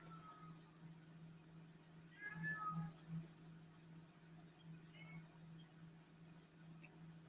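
A pet cat meows in a few short, thin cries near the middle of the clip, faint and set over a steady low hum.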